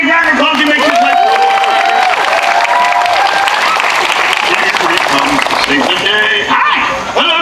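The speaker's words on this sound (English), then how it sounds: "Give him a big round of applause." A live audience breaks into loud, sustained applause and cheering for a child volunteer called up at a stage show; the clapping stays dense and steady throughout, with a voice talking over it.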